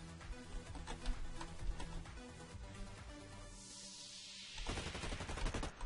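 Rapid bursts of gunfire in Blacklight: Retribution crackle over a busy layered soundtrack, followed by a rising whoosh and a final flurry of shots.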